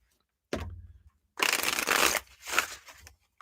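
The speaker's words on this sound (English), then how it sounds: "That was a poor shuffle." Reading cards being shuffled by hand: a short riffle followed by two longer, brisk shuffling bursts with brief pauses, close up and alone.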